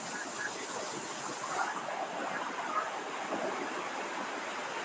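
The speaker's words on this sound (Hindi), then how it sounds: "यहाँ पानी गिरने की आवाज़ आपको आ रही है" Water pours and rushes fast through a large irrigation canal in Darya Khan, Pakistan: a steady, loud, broadband roar of falling and flowing water with no breaks, heard up close and alone.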